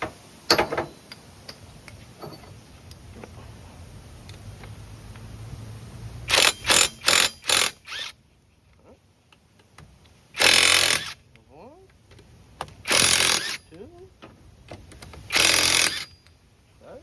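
An E14 socket wrench breaks loose the connecting rod bolts on a junkyard Honda K24A2 engine, making sharp cracks and short bursts of quick ratcheting clicks separated by quiet pauses.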